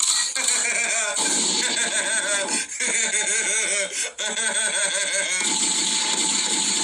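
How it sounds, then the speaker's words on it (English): A dog whimpers and whines in rising, looping cries, with short bark-like yelps mixed in, loud and close and almost continuous throughout. "That's my dog right there."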